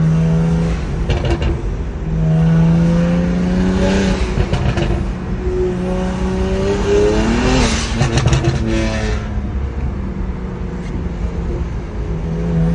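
A BMW 335is with the N54 turbo engine at 15 psi and anti-lag accelerates hard, heard from inside the car: loud revving that climbs through the gears with rising engine tones and crackly bursts.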